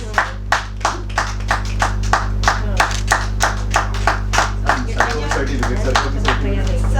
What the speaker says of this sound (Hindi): एक पापा के लिए तालियां नहीं रुकनी चाहिए भाई सब लोग।